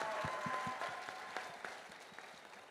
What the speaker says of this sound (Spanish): Les pido un fuerte aplauso para Rosa Merari Azuara Verde,